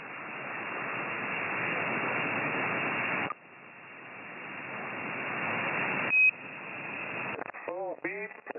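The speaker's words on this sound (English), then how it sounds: "Hearing some damn beeps." Beeps and tones come over a radio channel through steady static hiss, with a short high tone near the end followed by chirping warbles and bursts.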